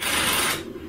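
A ratchet wrench tightening a bolt on a DIY Land Rover winch mount gives a short, close burst of fast clicking that stops abruptly.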